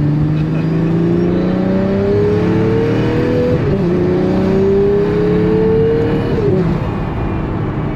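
A Pagani Utopia supercar engine revs hard while driving, climbing steadily in pitch through long pulls with brief dips at gear changes, loud and close throughout.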